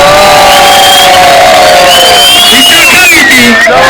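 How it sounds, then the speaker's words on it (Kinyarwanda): Loud crowd cheering and shouting close up at a Rwandan music event, a dense roar of many voices with whoops and some clapping, sustained throughout. "umukomera amashyi menshi cyane"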